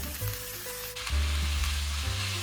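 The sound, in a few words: eel shreds with scallion and ginger stir-frying over medium heat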